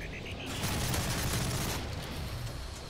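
Rapid MP7 submachine gun fire in the video game Modern Warfare 3, a dense continuous rattle of shots at moderate level with game noise around it.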